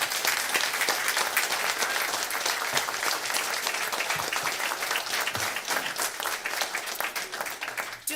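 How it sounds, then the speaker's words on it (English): Sustained audience applause at a city council meeting, a dense, even wash of many hands clapping that holds steady for about eight seconds before tapering at the close. "So if we could please give them all a round of applause."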